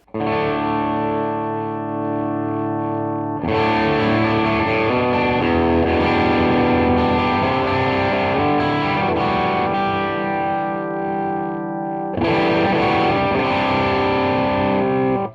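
Electric guitar through a Keeley D&M Drive overdrive pedal rings out in held chords and picked notes, the crunch growing thicker and brighter as the gain increases.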